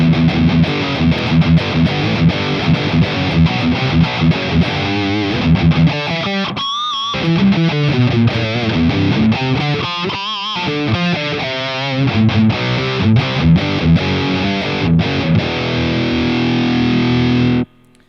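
Heavily distorted electric guitar through a Boss Katana amp's Governor distortion setting plays chords and riffs with a thick, gritty overdriven tone, loud and up close, ending abruptly.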